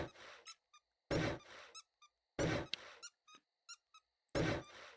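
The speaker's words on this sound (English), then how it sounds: "there's squeaky hammer sounds" Squeaky hammer strikes in the survival game 7 Days to Die, four loud hits each followed by a string of short high squeaks, repeating in a regular rhythm with silent gaps between.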